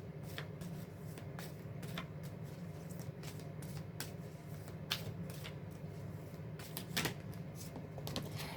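Wisdom of Avalon oracle cards shuffled close up, giving a steady papery riffle with frequent quick card snaps and clicks spread across several seconds.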